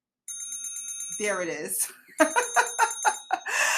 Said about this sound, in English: I have a little bell.